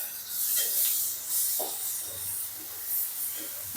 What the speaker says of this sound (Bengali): এবারে আমি কড়ার মধ্যে দিয়ে দেব কুচনো পেঁয়াজ আর কুচনো কাঁচা লঙ্কা